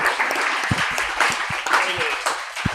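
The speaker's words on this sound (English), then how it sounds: "can everybody give a round of applause to Slash?" An audience claps for a guest called up on stage at a live comedy show, steady applause with a few louder hand claps and some voices mixed in.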